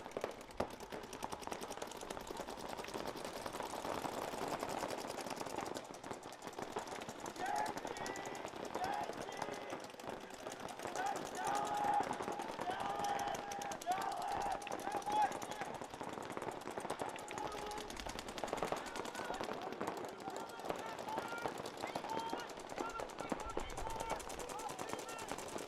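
Paintball markers fire in rapid bursts during a competitive NRXL tournament match between teams, a dense stream of distant popping shots running steadily underneath an announcer's commentary.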